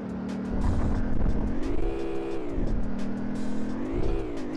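Game car engine from Driver 2, driven through Rio, drones steadily with pitch rising and falling as it speeds up and eases off, loud and continuous with no talk over it.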